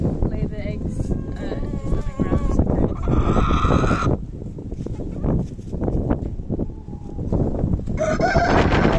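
A rooster crows several times amid lively background talk and other farm animal noises in a community garden in Prague, the calls loud and close with pauses between them.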